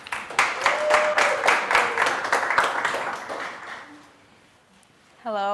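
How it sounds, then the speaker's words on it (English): An audience at a startup pitch event claps in a short burst of applause that gradually dies away. A clear electronic chime sounds at the end. "So round of applause."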